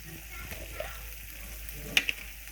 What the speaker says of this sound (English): Next, I'm gonna add some alfredo sauce.